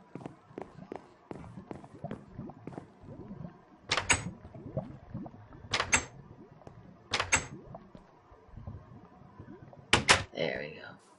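Several sharp door slams in a block-building game, four loud bursts spread across the stretch over a steady bed of footsteps and small clicks.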